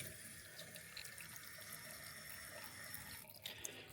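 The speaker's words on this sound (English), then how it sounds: "Bit of a waterfall tap there." A waterfall tap runs into a hotel bathroom sink with a faint, steady stream and splash, then a brief shift near the end.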